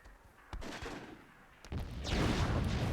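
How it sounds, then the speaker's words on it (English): A barrage of rocket explosions in Myth II Soulblighter, several booming blasts that swell into a sustained rumble, moderately distant and with no voices over it. "The RPG barrage continues."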